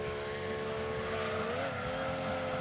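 Mazda MX-5 with sport suspension cornering in the Gran Turismo 2 racing game, a steady droning engine note that bends in pitch through the turn, with faint tire noise underneath.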